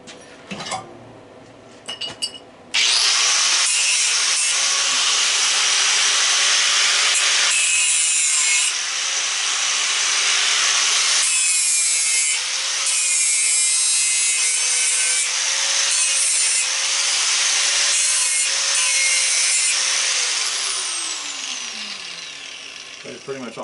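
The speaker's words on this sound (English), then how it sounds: "let me hit it with the grinder, see what color it is." Grinder working on a brass fitting, a sustained high abrasive whine with shifting pitch running for about twenty seconds after a short opening, loud and close, then winding down at the end.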